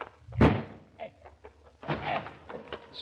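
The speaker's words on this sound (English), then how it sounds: "There's nothing for it but to bust in the door." A door being busted in for a radio drama lands one heavy slam early on, followed by a rough scraping and rattling burst of splintering and a few faint knocks.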